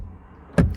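A Volvo XC40 car door opens with a single short, loud mechanical clunk after a quiet stretch of low background noise.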